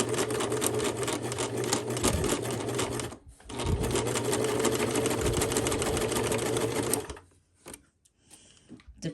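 A sewing machine stitches steadily through several layers of fabric and bias binding around the edge of an 18th-century style pocket, running loud and continuous with one short pause before stopping near the end.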